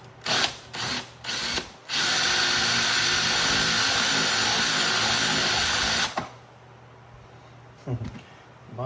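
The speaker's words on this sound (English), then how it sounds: "My chuck in this drill is just not hanging on." Short bursts of a power drill fitted with a large, sharp bit and a slipping chuck, then a steady loud whine for several seconds before it stops, followed by a couple of brief revs.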